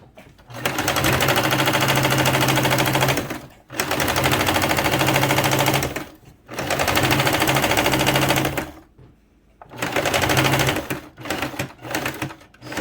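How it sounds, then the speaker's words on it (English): A sewing machine stitches the elastic casing on a T-shirt sleeve in loud rapid mechanical runs of two to three seconds, broken by brief pauses and a few short bursts near the end. "I'll continue sewing till the end, like so."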